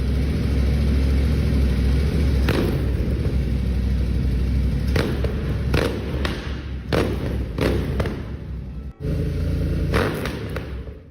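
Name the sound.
Cerra GT865 custom Royal Enfield Continental GT 650 motorcycle engine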